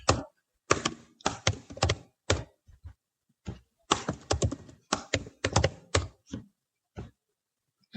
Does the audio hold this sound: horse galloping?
no